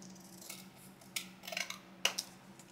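Scissors trimming paper around an envelope for a junk journal: a few quiet, crisp snips in short clusters over a faint room hum, with no talking.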